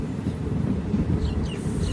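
A train on the Kashmir valley line rolls into Anantnag station, heard from inside a Vistadome coach. A steady, loud low rumble of wheels and carriage runs throughout, with faint higher squeals near the end.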